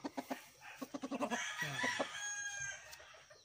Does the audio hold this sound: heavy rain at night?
no